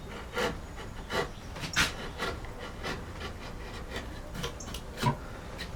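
Wood carving with a chisel and mallet, the blade scraping and paring the wood in soft, close strokes, with a few sharper taps at irregular intervals of about a second.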